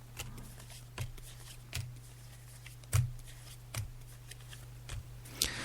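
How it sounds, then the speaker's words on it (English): Tarot cards shuffled by hand during a psychic reading, giving soft papery riffles and taps in an irregular rhythm, close and quiet over a steady low hum. "So as you can hear, Pamela, I'm just shuffling the cards now."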